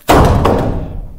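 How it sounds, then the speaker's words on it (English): A cordless drill drops onto the floor during a tongue-and-groove board install on a cabin ceiling, landing with one loud, close thud that rings briefly and fades. "Just dropped my drill."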